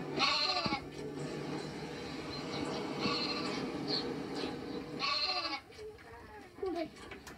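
Lambs bleat repeatedly at close range while being bottle-fed, with overlapping high cries and faint background voices.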